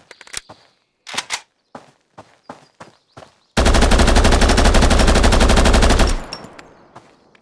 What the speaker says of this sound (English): Strafe shooting seems interesting.